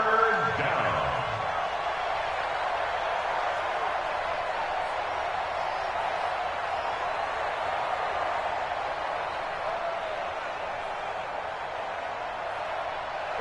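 A stadium crowd in a PS4 football video game gives off a continuous broad roar that holds steady throughout, with a brief tonal game sound at the very start and no voices.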